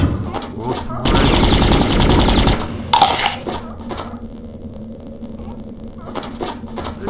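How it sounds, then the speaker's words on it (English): Bursts of enemy gunfire in the video game MDK, a dense loud volley of rapid shots followed by a sharp blast, then scattered fainter shots over quieter game ambience. "They're trying to shoot him."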